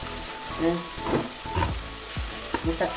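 Tomato masala for egg curry sizzles steadily in a pan while a spoon stirs it in repeated close scraping strokes.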